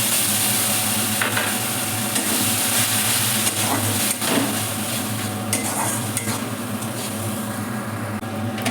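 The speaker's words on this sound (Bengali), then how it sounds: "মশলাগুলো একটু ভালো করে ভেজে এবার দিয়ে দেবো আমি টমেটো পিউরি" Spices and tomato puree for rohu fish curry frying in a pan give a loud, continuous sizzle, with occasional faint stirring scrapes.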